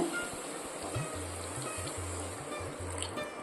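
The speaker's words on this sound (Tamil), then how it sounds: "இப்போ இந்த மாங்காய் பச்சடிக்கு தேவையான தண்ணி சேர்க்க போகிறோம்" Water poured into a pan of mango for Tamil-style mango pachadi, a steady low trickling stream running continuously at close range.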